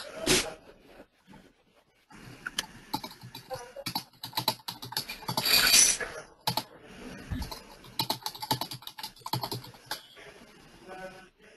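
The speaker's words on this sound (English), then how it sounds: "So I'm going to type." Typing on a computer keyboard during an online group session, a steady run of quick clicking keystrokes in bursts, close and fairly loud, with a brief louder clatter midway.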